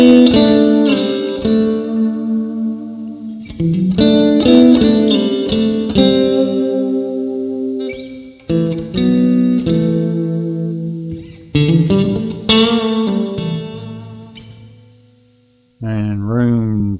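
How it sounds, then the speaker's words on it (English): An electric guitar runs through a Reverberry effects pedal on its smaller room reverb setting. Several strummed chords and picked notes ring loudly and up close, and each one leaves a short reverb tail. "This one is the smaller room reverb."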